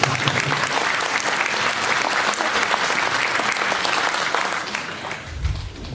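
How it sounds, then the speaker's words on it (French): Applause from an audience at a mayor's New Year's wishes ceremony in Coulaines, France: dense, steady clapping from a large crowd that carries on for several seconds and tails off near the end. "Vous pouvez applaudir."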